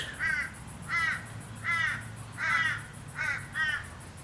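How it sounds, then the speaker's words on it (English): Torresian crows cawing six times in a steady rhythm, harsh calls spaced about half a second apart, moderately close over quiet outdoor background in Brisbane. "And those are Turrigian crows."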